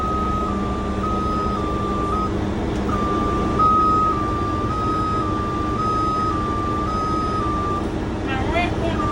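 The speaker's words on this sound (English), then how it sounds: "I'm gonna let out my wheelchair ramp." A bus wheelchair ramp deploys to a repeating pattern of warning beeps over a loud idling engine, with a brief pause in the beeping and faint hissing near the end.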